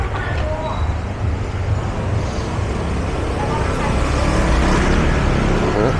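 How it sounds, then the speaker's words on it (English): Street traffic in central Pattaya at night rolls past continuously, a dense rumble of cars and other vehicles slowing over speed bumps, with faint voices mixed into the steady roadway noise. "A bit of traffic. They're all trying to avoid the speed bumps."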